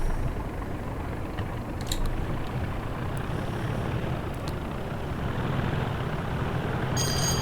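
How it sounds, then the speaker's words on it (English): Class 37 diesel locomotive in Train Simulator Classic, hauling freight from Bournemouth to Salisbury, with its engine growling in a steady, loud low rumble that runs throughout without let-up. "it's very growly, the engine"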